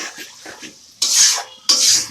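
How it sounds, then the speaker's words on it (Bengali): Carrots dropped into hot ghee in a pan for carrot barfi, giving two loud bursts of hissing sizzle after a quieter stretch of faint clinking and stirring, close up with no talk. "ঘি গরম করে এই যে গাজর দিয়ে দিছি ঘিয়ের মধ্যে। এখন গাজরটা সুন্দর করে একটু ভেজে নিব।"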